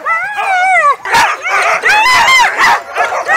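Several young sled dogs bark, yip and whine together at close range during a morning training session as a team is hitched, the calls overlapping in restless, uneven bursts.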